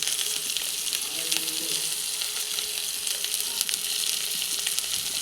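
Onion, ginger and green chili sizzle steadily in a pan, a dense close crackle with a few sharp spikes and light stirring clatter, and no speech.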